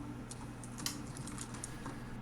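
Quiet computer keyboard typing, a quick irregular patter of light key clicks with a steady low hum behind it, no voices.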